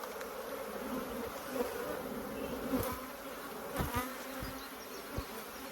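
A congested honeybee colony full of brood hums steadily through a first spring hive inspection, a quiet continuous buzz with a few soft knocks and handling sounds.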